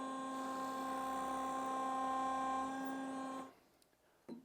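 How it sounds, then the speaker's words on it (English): A steady high-pitched whine of a Nova Voyager DVR drill press boring a pilot hole into an ambrosia maple block with a small bit for about three and a half seconds, then spinning down, followed by a brief knock. "use a smaller drill bit to create a pilot hole in this ambrosia maple block"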